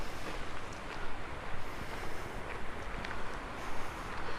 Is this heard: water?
yes